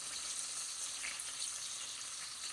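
Beef frying in a pan gives a steady, dense sizzle with a faint watery crackle, close and even all the way through, with no voices.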